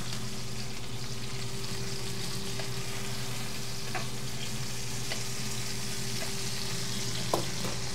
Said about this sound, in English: you gotta really infuse that rosemary into it with the baste